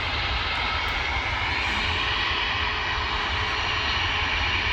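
An airliner throttling up for takeoff on a runway near an airport viewing park produces a loud, steady jet engine roar that fills the whole stretch without letting up.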